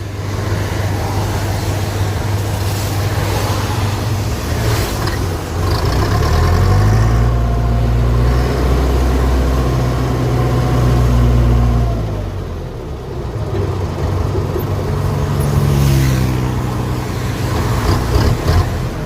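Steady roadway traffic on main road 205 beside a tractor shop in Non Thai, Nakhon Ratchasima, Thailand, with a continuous loud engine rumble and vehicles swelling past close by, no speech.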